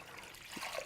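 About two and a half cups of milk poured into a bowl for a pie, a soft brief trickle and glug lasting under a second.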